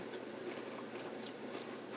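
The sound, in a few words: person biting and chewing crunchy potato chips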